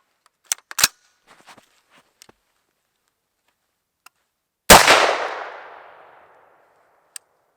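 A single loud AR-15 rifle shot firing a 5.56 round into frozen ribs, a sharp blast with a long fading echo, preceded by a few small clicks and handling taps and followed by a lone faint click.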